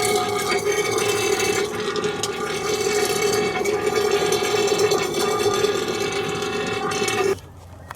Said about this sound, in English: Then I'm gonna take these bolts out, but I'll take the hose off first.